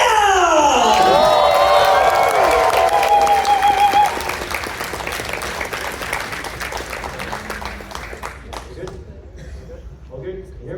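A convention talent show crowd cheers and applauds, with loud whoops and shouting over dense clapping at first, then the clapping continues and slowly fades.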